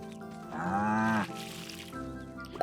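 Cattle in the farming video game Staxel let out a single drawn-out moo that rises and falls, followed by a fainter second lowing, clear against a quiet game background.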